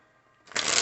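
A deck of cards is shuffled in one quick close riffle, a short dense burst of papery flutter that follows a brief quiet moment.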